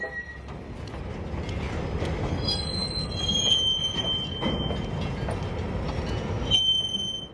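A freight train of wet rock gondolas rolls steadily past with loud metallic wheel squeals rising and falling over a continuous low rumble, close by, no voices.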